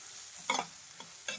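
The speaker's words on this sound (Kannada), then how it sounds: "ಇದೊಂದು 2 ರಿಂದ 3 ಸೆಕೆಂಡ್ ಫ್ರೈ ಮಾಡ್ತಿದ್ದಾಗೆ ಹಸಿರು ಮೆಣಸಿನ್ಕಾಯಿ ಹಾಕ್ತಾ ಇದ್ದೀನಿ." Slit green chillies hit hot oil in a pan for a vegetable Maggi masala noodle dish, giving a faint steady sizzle punctuated by three short stirring scrapes.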